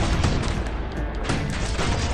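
Dense, continuous bursts of cannon fire and explosions in the video game Bastion, loud and close, overlapping with no pauses.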